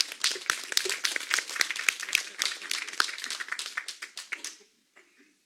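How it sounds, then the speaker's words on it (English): Audience clapping at a community live-streamed event, a small crowd's sharp, distinct claps fairly close, thinning out and stopping near the end before falling quiet. "Round of applause, please."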